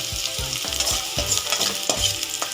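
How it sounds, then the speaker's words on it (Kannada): Cauliflower pieces for gobi manchurian frying in hot oil until crisp, a steady close sizzle with a series of spoon scrapes and stirs at a regular pace, no talking. "ತುಂಬ ಫ್ರೈ ಬೇಡ, ಸ್ವಲ್ಪ ಅದು ಕ್ರಿಸ್ಪ್ ಮಾಡ್ಕೊಳ್ಳೋಣ."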